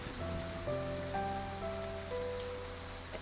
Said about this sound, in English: The downpour starts.